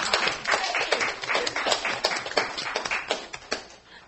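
Scattered hand clapping from people at a city meeting, a loose, uneven patter of claps that rises and falls in small bursts, fairly close and without talk over it.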